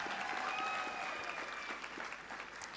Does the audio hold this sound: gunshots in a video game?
no